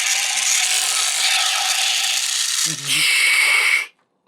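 Electronic sound effects from a Kamen Rider Build DX Drill Crusher toy: a loud, steady whirring buzz with a brief click partway through, then a short resumed burst that cuts off abruptly into silence.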